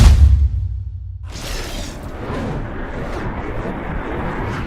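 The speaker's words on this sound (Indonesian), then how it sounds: "langsung menembakkan pistol itu ke arah Jonah." A single loud blast from an antique pistol fired during a fight scene in a revenge action film, an abrupt report followed by a broad, rumbling decay that fills the rest of the moment with no voices.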